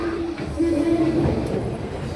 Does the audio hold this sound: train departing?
yes